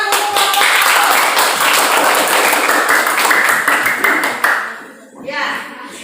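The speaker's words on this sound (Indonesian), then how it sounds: "Tepuk tangan untuk kelompok" A class of students claps for a group after its answer in a biology lesson on the digestive organs, a dense patter of hands that thins out toward the end, with some voices mixed in.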